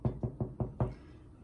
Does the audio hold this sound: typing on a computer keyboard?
no